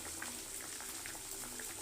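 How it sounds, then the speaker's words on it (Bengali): A light fish curry with green banana bubbles on the stove, a close, continuous soft popping and gurgling boil at low level. "কত সুন্দর ফুটে গেছে ঝুলটা"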